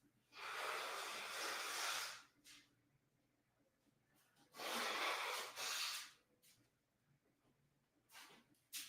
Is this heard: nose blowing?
yes